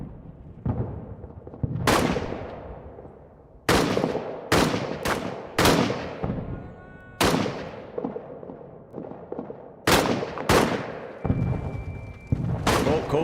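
In the World War I trench game All Quiet in the Trenches, heavy gunfire and booming shots crack again and again in irregular bursts, some close and loud, others fainter, over a steady battlefield rumble.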